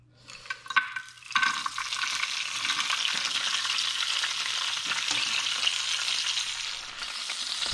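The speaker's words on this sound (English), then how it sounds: "I'm gonna go ahead and add the vegetables right now" Vegetables hit a hot pan and sizzle loudly after a couple of clattering knocks, settling into a steady bright frying hiss that carries on evenly to the end.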